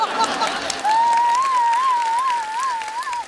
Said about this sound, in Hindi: और आप क्या तालियां बजा रही हो?